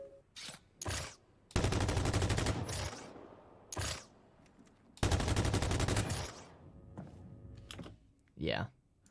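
Bursts of weapon fire from a video game, several separate bursts: short sharp shots followed by two long sustained volleys with ringing tails, sitting between quieter gaps and short mechanical handling sounds.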